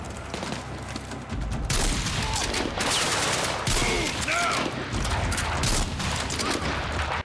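Gunfire from the Battlefield 6 video game campaign, rapid overlapping bursts of shots and mechanical weapon clatter, dense and loud, with brief whistling tones mixed into the sustained volley.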